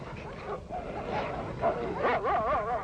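A Sarplaninac sheepdog fighting a wolf gives a run of strained yelps, whines and growling barks, close and continuous over a muffled rough background.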